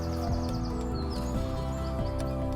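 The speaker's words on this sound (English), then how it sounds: "You can be at one with nature in this garden while you can hear the birds." Birds chirp and twitter in a London apartment garden, small scattered calls sitting over a dense layer of sustained musical tones that dominates the sound.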